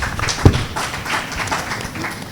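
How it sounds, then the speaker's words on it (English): A seated conference audience claps for itself at a managers' session, a dense and even patter of many hands that sounds somewhat distant and lasts the whole stretch. "So I think you should clap for yourself."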